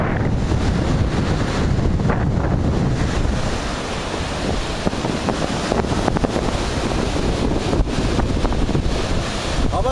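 Strong wind of about 5 Beaufort, roughly 33 km/h, on a stormy full-moon night, roaring steadily as loud broadband gusts with surf-like rushing, close and continuous throughout.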